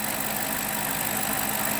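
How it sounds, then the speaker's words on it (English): A BMW E60 545i with the N62 V8 idles as it warms up, giving a steady, continuous near engine hum with a faint mechanical whir, alone with no talk. "Just waiting for the engine to warm up."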